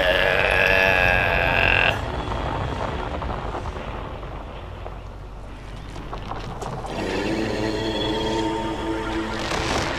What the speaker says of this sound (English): Oh, he's burping.